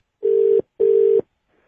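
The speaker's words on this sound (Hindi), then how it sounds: "यार फिर आपका फोन बीजी है।" A telephone busy tone plays as two steady, loud beeps of equal length separated by a short gap, with no talk over them.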